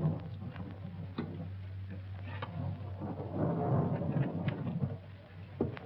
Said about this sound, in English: Making the thunder and lightning himself